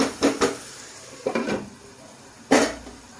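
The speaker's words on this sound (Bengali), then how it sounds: "এখন আমি ঢাকনাটা দিয়ে দেব।" A metal lid is set onto a pot of mutton being slow-cooked. Several close, sharp clanks and rattles come in short bursts separated by quiet pauses.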